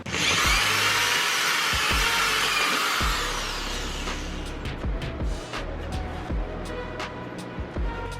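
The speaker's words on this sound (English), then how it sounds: "let's drill some holes" A loud power drill whines steadily for a few seconds, then winds down into scattered clicks, knocks and handling noises nearby.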